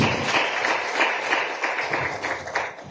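Steady applause from a summit audience of children and young people at a climate gathering in Addis Ababa, dense clapping that stays loud throughout with slight swells.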